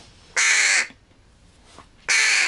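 A young crow chick gives two loud, harsh, close caws about a second and a half apart, with a quiet gap between them.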